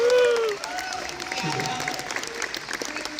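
An audience applauding a film panel of producer, writer, editor and VFX team, a dense, sustained clapping with some crowd noise and a whistle-like tone at the start, voices talking over it.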